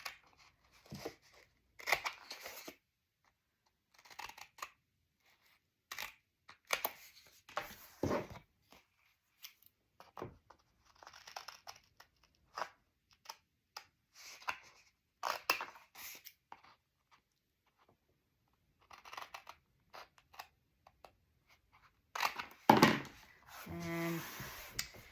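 Scissors snip through paper corners in short separate bursts, quiet and close, with gaps of silence between the cuts and a brief spoken phrase near the end.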